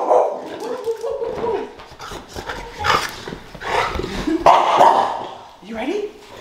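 Dogs bark, yip and whimper excitedly just before going for a walk, close and fairly loud, with a person talking over the noise.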